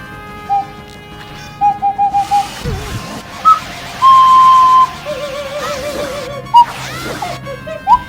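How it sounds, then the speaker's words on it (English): Ocarina played as a controller for the Ocarina of Time video game, short piped notes and a held tone over game sounds, with crashes and effects in between, loud and close. "started a playthrough of Ocarina of Time with an actual ocarina"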